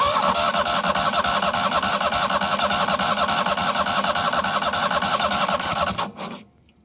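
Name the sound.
1998 Yazoo YTKC22 mower engine starting and running rough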